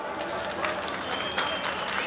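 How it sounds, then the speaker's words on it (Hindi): A crowd at a political rally in Chamba's historic Chaugan ground claps loudly in continuous applause. A voice over a loudspeaker carries through the clapping. "जोरदार तालियों के साथ स्वागत कीजिए।"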